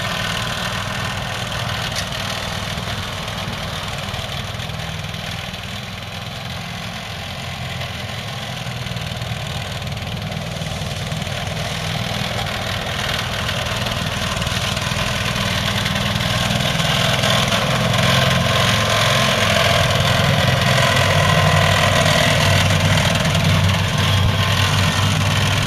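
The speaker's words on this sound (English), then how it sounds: "One tank of gas is enough for several hours of mowing." A T-Rex slope mower engine runs steadily on a grassy hillside, a continuous close mechanical drone with a gradual rise in loudness toward the end and no talking.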